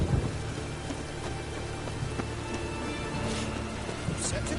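Steady rain falls in The Witcher 3 game world, a constant soft hiss at moderate volume with faint rumbles beneath and no clear speech over it.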